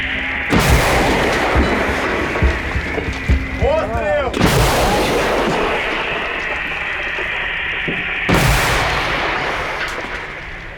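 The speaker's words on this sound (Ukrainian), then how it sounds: "Постріл!" Heavy artillery gun booms out in loud blasts during war, three big reports spaced several seconds apart, with voices and radio chatter in between.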